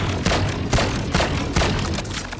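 Sheriff pistol shots fired in the game Valorant, a handful of sharp, punchy reports spaced irregularly about half a second apart, close and loud with no voices.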